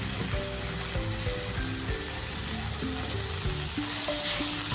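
Onions frying in a pan sizzle as coriander powder and turmeric go into the hot tempering, a close, continuous crackle with occasional stirring scrapes and no talk.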